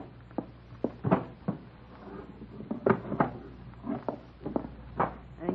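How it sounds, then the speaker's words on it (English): A wooden dresser drawer handled in an old-time radio drama, with a series of knocks, scrapes and thuds, some wooden bumps and shuffling in a quiet room with no talking. "It's in the bottom drawer of the dresser."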